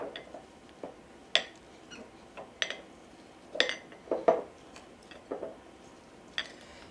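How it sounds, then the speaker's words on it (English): A muddler presses and crushes mint leaves in a cocktail glass, giving a series of soft, irregular taps and clinks against the glass bottom, close and fairly quiet, with no talking. "you can keep pressing down on all of them until they're crushed to the bottom"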